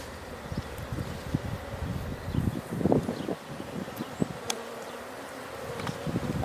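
Honeybees buzz around an open hive during an inspection, a steady close hum with individual bees passing near, plus faint rustling and light wind noise.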